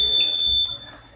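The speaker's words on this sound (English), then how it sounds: "Turn off the alarm." A smoke-alarm-style alarm goes off inside a mansion, a loud, steady high-pitched electronic tone that holds for about half a second before cutting out and dropping away.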